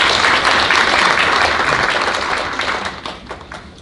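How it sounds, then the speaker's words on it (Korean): Audience applause breaks out at a National Assembly forum on post-COVID green new deal policy as a panelist is introduced, a dense sustained clapping that holds steady then gradually thins and fades toward the end. "박수를 모시겠습니다"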